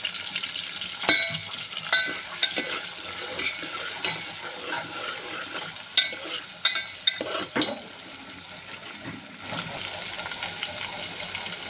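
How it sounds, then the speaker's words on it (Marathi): Onion and green chillies sautéing in a pan for a green chilli curry, a steady close sizzle broken by repeated scrapes and stirring knocks of a spoon against the pan, with no talking. "त्याच्यानंतर कांदा, हिरव्या मिरच्या चांगलं कलसून घ्यायचं."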